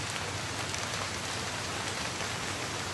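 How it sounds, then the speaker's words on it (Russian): Steady rain falling outdoors, a dense, even hiss of drops on surfaces that holds constant throughout, with no voices or other sounds over it. "Сегодня идет дождик"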